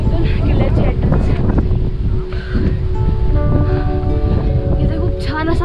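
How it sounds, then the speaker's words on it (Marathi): Strong wind sweeps across the hilltop Vasota fort above the Koyna valley, buffeting loudly and steadily against the microphone, with faint voices and tonal sounds in the background. "इथे खूप छान असा वारा सुटलेला आहे"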